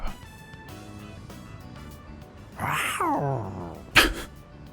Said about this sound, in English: That is a weird sound to hear from a dog.